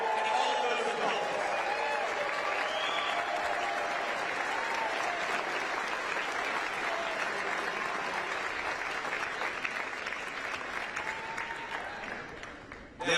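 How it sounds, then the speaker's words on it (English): Loud, sustained applause from a large political rally crowd, continuous dense clapping with crowd noise that carries on for over twelve seconds before easing slightly. "Let's give them a round of applause for everything they do"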